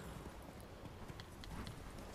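Roach, Geralt's horse in The Witcher 3, gallops with a steady, rapid clip-clop of hooves. It sits over a dense, noisy game soundscape at moderate level throughout.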